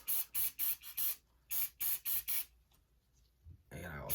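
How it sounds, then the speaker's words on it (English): Two quick runs of short, hissing bursts of aerosol cleaner sprayed onto a gun barrel, close by, with a pause between, then a brief rustle at the end. "Spray this barrel."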